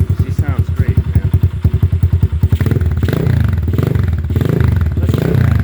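An X-pro DLX Storm 150 motorcycle with a freshly fitted aftermarket exhaust and a carburetor not yet fully tuned, loud and close, opening with a rhythmic lumpy idle that swells into a steady throaty revving drone.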